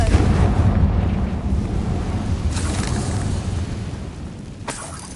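A Confringo fire blast spell in Hogwarts Legacy, a loud rumbling explosive roar that fades slowly, with a couple of sharp crackling bursts toward the end and no talking.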